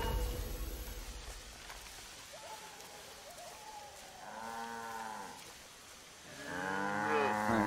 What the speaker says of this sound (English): Alright, so I got one cow in there now.